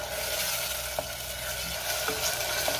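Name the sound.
tomato paste being sautéed with onion in a pan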